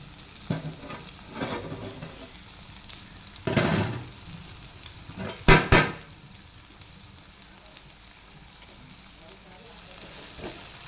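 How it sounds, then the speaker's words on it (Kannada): Onions frying in oil in a pan, a soft continuous sizzle broken by a few louder bursts of stirring and scraping, with quiet pauses between. "ಎಣ್ಣೆ ಹಾಕಿ ಈಗ ಈರುಳ್ಳಿ ಹಾಕ್ತೀನಿ. ಈರುಳ್ಳಿ ಸ್ವಲ್ಪ ಕೆಂಪು ಫ್ರೈ ಆಗಬೇಕು"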